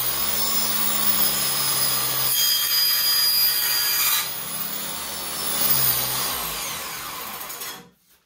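A power saw with a plywood blade grinds continuously through wood, its rasping whine rising and dipping as the cut progresses, then cutting off abruptly at the end.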